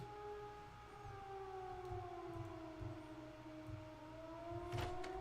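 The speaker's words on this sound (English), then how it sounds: "What's that sound? A siren?" A long, wailing siren in the video game Zompiercer slowly falls and rises in pitch, steady and sustained over a low engine-like hum, with a brief clatter near the end.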